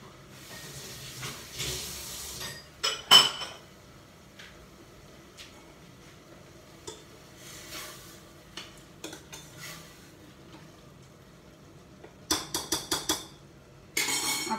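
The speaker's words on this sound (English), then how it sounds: "Now I am adding the soaked chana dal." Soaked chana dal is tipped into a pressure cooker with cabbage, soft pattering and scraping, metallic clinks of a spoon against the pot, and bursts of sizzle near the end, fairly quiet and close.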